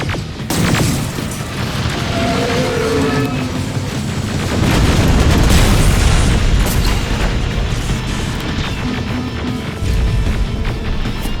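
Rocket and grenade explosions crash through a firefight in the video game Terminator Resistance, a dense, continuous barrage of loud booms and blasts with no pauses.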